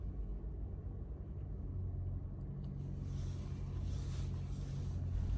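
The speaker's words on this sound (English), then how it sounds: "the engine starts immediately" A 2019-or-later Toyota RAV4 engine fires and settles into a low, steady idle, a close, continuous rumble that firms up partway through.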